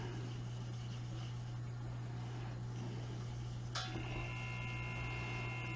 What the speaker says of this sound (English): the air compressor kicks on, always